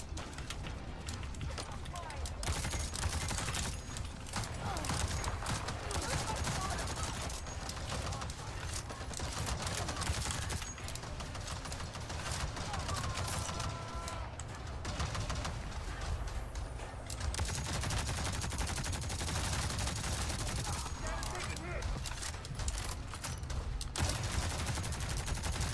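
Sniper and other gunfire in the Avatar: Frontiers of Pandora video game, repeated loud sharp shots and bursts spread across a long stretch of busy combat noise, with someone talking excitedly over parts of it.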